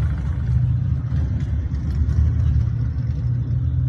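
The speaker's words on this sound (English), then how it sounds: "Got a car and stuff like that." A car driving past outdoors gives a continuous low engine rumble that rises and eases a little as it goes by, heard at moderate distance with no voices over it.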